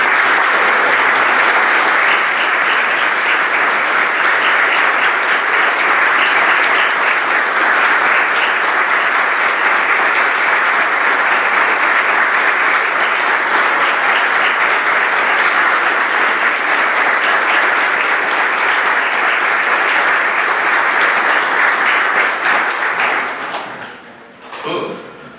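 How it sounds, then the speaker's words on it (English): Sustained, loud applause from a church congregation at a Mass honoring first responders, steady for over twenty seconds before tapering off abruptly near the end. "I'll give them big rounds of applause"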